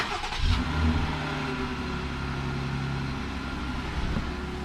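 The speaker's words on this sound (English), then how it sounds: "This is a cold startup on a 2020 Jeep Gladiator Rubicon." Cold start of a 2020 Jeep Gladiator Rubicon engine, a brief crank catching into a steady, fairly loud idle with a low rumble that holds for several seconds, recorded close with no talking.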